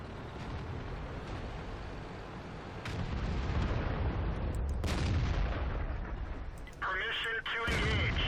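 A tank cannon booming in World of Tanks, an AMX 50 100 on the Fjords map, heavy low rumbling blasts over steady engine drone, with a radio-style voice line partway through.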